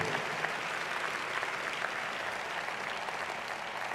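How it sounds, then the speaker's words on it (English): A large audience applauds at a National Urban League conference keynote, a dense, sustained wash of clapping from many hands filling the hall at a steady level throughout. "Give yourselves a big round of applause for the work you do"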